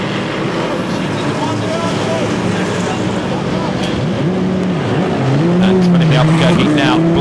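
A race car at Spa-Francorchamps in 2011 roars out of the pit lane after refuelling, engine note climbing steadily over a loud, continuous blare with rising pitch sweeps as it accelerates away, while a commentator talks over it.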